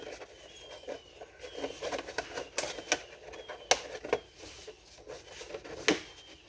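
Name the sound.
knife cutting a plastic milk jug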